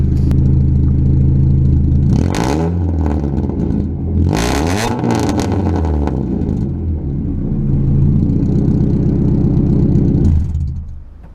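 A Rocket Bunny Mazda Miata engine, very loud and close, rising and falling through several rev blips over a steady idle rumble before cutting off near the end, with no voices.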